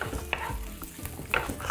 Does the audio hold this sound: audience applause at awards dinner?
no